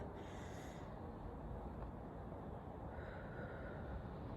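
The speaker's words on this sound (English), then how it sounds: "you take a deep breath" A single slow, deep breath drawn in and let out, heard as soft, steady airy breathing, close and quiet over a faint background hiss. No one speaks.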